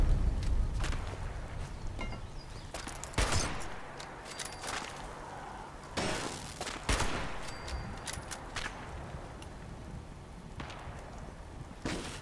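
Scattered gunfire in Fallout 76, sharp loud shots and short bursts at irregular intervals over a noisy outdoor backdrop with shuffling movement, some shots nearer and others farther off, no voices.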